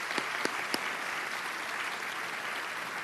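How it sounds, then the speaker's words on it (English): Brief applause at a college commencement ceremony for honorary degree recipients, a moderate, steady crowd clapping with a few distinct close claps standing out in the first second. "So if you wouldn't mind applauding them"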